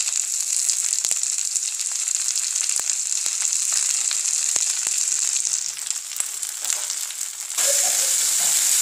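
Onions with tomatoes and green chillies frying in a pan for a potato, carrot and pea curry: a dense, continuous sizzle with scattered spattering pops, close and loud.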